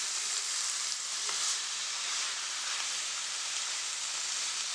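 A sugar cake mixture cooks in a pot with a steady sizzle and bubbling hiss, stirred continuously, with a faint scrape near the start and no voices.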